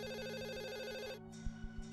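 A home landline telephone rings with an electronic melodic tone, a steady repeating pattern that cuts off partway through, followed by faint room knocks.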